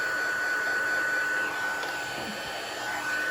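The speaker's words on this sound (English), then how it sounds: "This is a little heat gun from Stampin' Up. I'm just going to turn that on and wait for it to heat up." Small Stampin' Up heat embossing gun running, a steady, loud blowing hum with a constant whine held evenly throughout.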